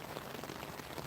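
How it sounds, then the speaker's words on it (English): Heavy rain pouring down at night, a dense, steady hiss of drops drumming on a surface with no pauses, close and enveloping. "The rain is very heavy."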